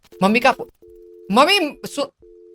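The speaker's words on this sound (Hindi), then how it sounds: "मम्मी का फोन आया था।" A steady telephone tone hums through a phone call in an Indian horror villa video game, sounding in long flat stretches between bursts of close, excited speech.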